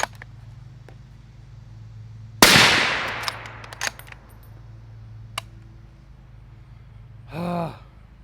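A single suppressed .308 rifle shot through a Rex Silentium MG7 suppressor, a sharp loud crack with a decaying tail outdoors, followed by faint clinks and a brief exclamation from someone nearby.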